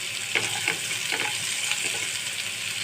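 Onions fry in hot oil for a ridge gourd and bata fish curry, a dense, even sizzle up close with faint stirring taps underneath.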